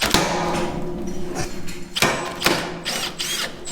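A power drill runs steadily and loudly throughout, whining continuously with a few sharper bursts and pitch shifts as it bites into material, with no talking.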